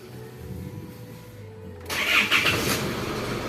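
An Isuzu D-Max pickup engine cranks briefly and catches after a fuel pump repair, then settles into a steady, close, moderately loud running note.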